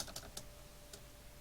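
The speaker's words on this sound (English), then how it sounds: "That's my keyboard." Several quick, faint keystrokes clatter on a computer keyboard in a quiet room, followed by a single later tap.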